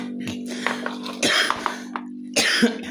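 Several harsh, phlegmy coughs in bursts from a month-long chesty cough, with a steady low hum underneath and short pauses between the coughing fits.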